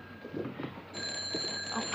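An old-fashioned telephone rings in a 1956 drama, its bell starting partway through and trilling steadily and fairly softly, with muffled movement and background noise before it.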